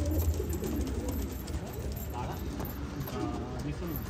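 Pigeons bought for racing coo in a low, throaty rhythm, close by, mixed with people talking and a little clinking and shuffling around them.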